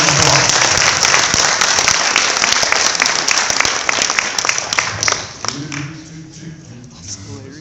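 An after-prom audience breaks into loud, sustained applause that fills the room, then tapers off as a voice begins speaking over the fading claps.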